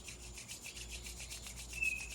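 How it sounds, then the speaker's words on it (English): Soft, quiet rhythmic swishing of two palms rubbed briskly together, a steady back-and-forth friction texture repeating about five times a second, close and alone. "Rub the hands together."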